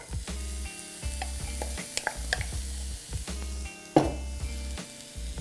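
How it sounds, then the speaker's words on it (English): Chopped onion hitting hot olive oil in a preheated pan gives a steady close sizzle, with a few clinks and scrapes of stirring and a sharper burst about two thirds through. "I'm going to add some chopped onion."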